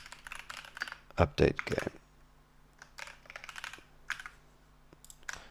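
Typing on a computer keyboard while coding a Pong game, bursts of close rapid key clicks with a loud cluster near the start, heard under a man's quiet speech.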